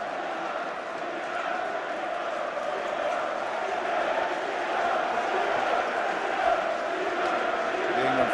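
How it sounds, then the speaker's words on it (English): England fans at the Euro 96 England v Scotland match give a steady, sustained roar of applause as the injured Redknapp is carried off the pitch, a dense wash of distant crowd noise that holds level throughout. "The England fans on that side of the field as Redknapp's being carried away, giving him a tremendous round of applause"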